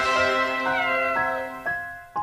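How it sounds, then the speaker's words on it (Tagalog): A kitten meows in a series of clear, close, fairly loud cries, one long call followed by several shorter ones, with no voices. "Hanggang sa nahanap ni Mina si Kuting."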